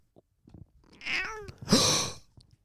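A cat meows twice in quick succession, close and clear, the second call louder and longer, with faint rustling between.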